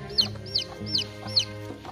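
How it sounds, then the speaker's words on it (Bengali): A chick being carried along a forest trail toward Khoiyachora waterfall gives four evenly spaced, high-pitched peeping clucks, faint against a quiet low hum of the surroundings. "এই মুরগির বাচ্চাটা একটু উপরে তুলে দেন"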